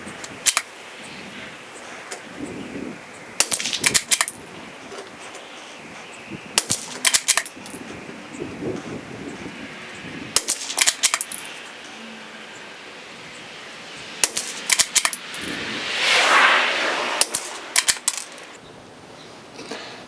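A CZ 457 rimfire rifle fires five rounds of CCI green tag ammunition, with sharp, loud cracks spaced a few seconds apart against a quiet outdoor background.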